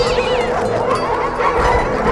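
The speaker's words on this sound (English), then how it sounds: "That's some bark you guys got." Several chihuahuas in Beverly Hills bark and yip together in a loud, busy jumble, close and continuous through the short stretch, with mixed noise layered underneath.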